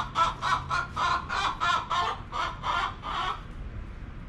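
Chickens make a run of rapid, repeated clucking calls in a quick rhythmic burst, fairly close, that tapers off into quieter background toward the end.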